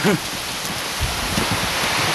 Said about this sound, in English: We got some major rain here going, folks.